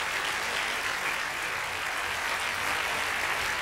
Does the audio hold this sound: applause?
yes